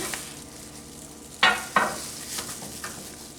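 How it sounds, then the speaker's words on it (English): Tortilla warming in a frying pan with cheese sprinkled on, giving a quiet, steady sizzle broken by two sharp scraping clatters and a few fainter taps. "warm that up in the pan a little bit"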